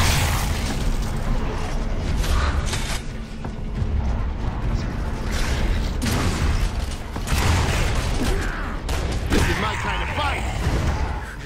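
Gunfire and grenade blasts from the video game Gears of War: Judgment, loud dense battle noise with several booming bursts and mechanical clatter throughout, under an excited voice.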